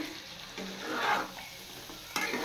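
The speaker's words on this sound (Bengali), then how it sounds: "চলো, এখানে মশলাটা ভালো করে কষিয়ে নিই নেড়ে চেড়ে।" Spice masala being stirred and sautéed in a pan while cooking a paneer and cauliflower dish, with a steady close sizzle and scraping stirs that swell in the middle and again near the end.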